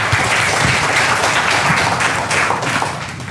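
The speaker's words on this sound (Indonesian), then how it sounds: "Tepuk tangan dulu buat kita semua yang pengen muda-muda ya" A loud burst of audience applause at a health talk, dense clapping that holds steady for a few seconds before easing slightly.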